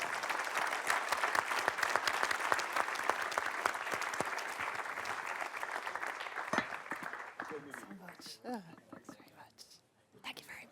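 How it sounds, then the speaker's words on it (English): Audience applauding a conference panel at an event on democracy and pluralism, a steady wash of clapping that runs about seven seconds, then thins out and gives way to someone speaking. "show your appreciation with a round of applause for our panel"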